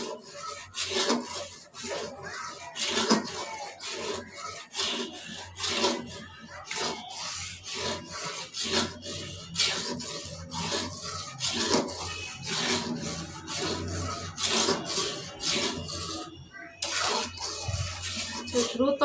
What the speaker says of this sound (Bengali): এটা খুব নাড়তে হবে।